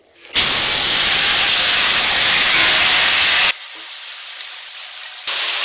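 Potatoes and green chilies hit a hot pan in a village kitchen with a sudden loud hissing sizzle that holds steady for about three seconds, then drops to a quieter sizzle before rising briefly again.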